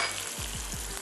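Garlic and ginger paste hits a hot frying pan for a lemon cream chicken pasta, giving a loud, continuous close sizzle with a few soft stirring scrapes.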